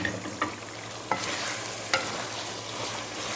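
Cauliflower stems and potatoes sizzle in hot oil for a dhaba-style sabzi, a steady frying hiss broken by four sharp scrapes and clinks of a spoon stirring the pan.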